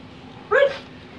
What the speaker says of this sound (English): If you hear something in the background, that's just my dumb dog rolling around acting silly.